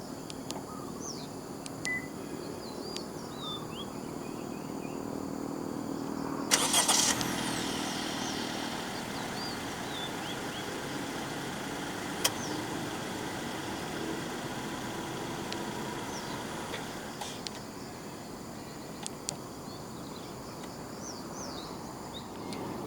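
A 2022 Honda City 1.5 V engine is remote-started, with a brief burst as it fires, then settles into a steady, quiet idle hum that runs alone without talk.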